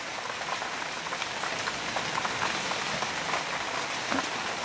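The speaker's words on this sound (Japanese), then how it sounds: "雨がむっちゃ、もう大雨。" Heavy rain drums steadily on a campsite tarp at Kasagi Campground during a winter solo camping trip, a dense, even patter of close drops with no voices.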